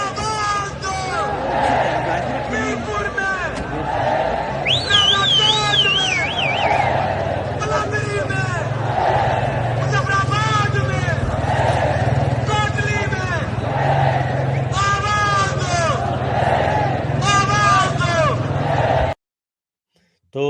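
At a Kashmiri protest in Rawalakot, a crowd chants slogans in steady call-and-response waves, loud and continuous over a dense crowd roar, with a whistle-like tone briefly cutting through before the sound stops abruptly near the end.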